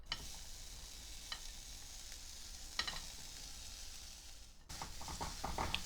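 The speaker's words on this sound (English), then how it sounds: "Now let's stir fry the onions." Onions stir-fried in a pan without added oil give a quiet, continuous sizzle with a few faint spoon scrapes. The frying grows brighter and crackles more near the end, and no one speaks.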